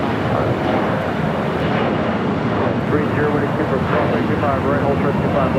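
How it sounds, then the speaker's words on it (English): Airbus A380 airliner moving on the ground at Los Angeles LAX airport, a steady broadband engine roar that holds level throughout without pause, with a faint voice murmuring beneath. "here in our first A380, about to cross over the 25s"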